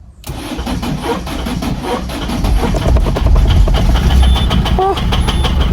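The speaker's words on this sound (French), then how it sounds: "On retente de la démarrer une dernière fois." A Citroën C3 1.4 HDi diesel engine cranks briefly and catches, then settles into a loud, steady, rough running clatter close by.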